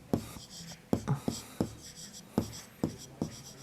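Chalk or marker strokes on a board during a Class 6 geometry lesson, a series of short sharp taps and scrapes in uneven rhythm, heard close and fairly clear with soft background hiss.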